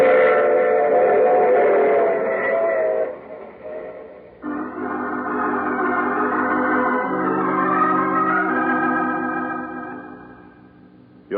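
A train in an old radio drama sounds a long, loud whistle over the rumble of rail cars, fading toward the end.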